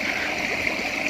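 Spring water pours steadily into a small tilapia fish pond, a continuous close rushing and splashing flow with no pauses.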